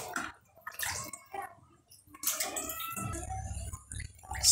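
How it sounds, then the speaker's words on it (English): Raw broiler chicken being rinsed in salty water, with splashing, dripping and sloshing that starts in bursts and turns to a steady, close wash of running water toward the end. "I'm also going to rinse it here with salty water"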